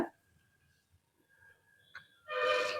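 A pressure cooker with carrots cooking in milk lets out a loud, sharp steam whistle near the end, after a few seconds of quiet kitchen background with faint tones.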